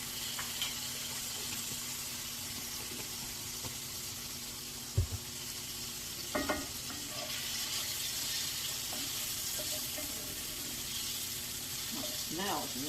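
Minced garlic, about a teaspoon, fries in a home kitchen pan with a steady broad sizzle that runs under the whole stretch, broken by a few brief clinks and soft stirring knocks.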